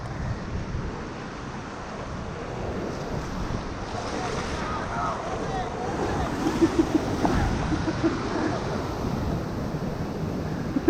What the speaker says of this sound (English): Oh, fucking waves coming in,